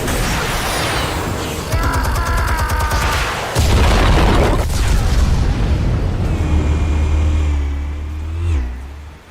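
Booming explosions in the Batman: The Telltale Series game, loud blasts with a heavy low rumble, one big detonation midway followed by a roaring, whooshing tail and a fading mechanical whine.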